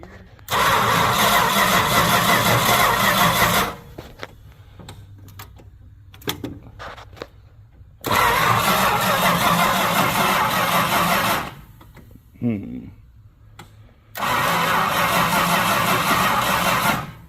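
A 1970 Chrysler Newport convertible's engine cranks in three long bursts of several seconds each, loud and close, with quiet pauses between attempts and no catch or start.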